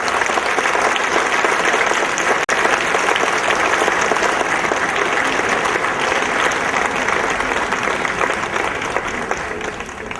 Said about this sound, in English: Please give the gold seal recipients another round of applause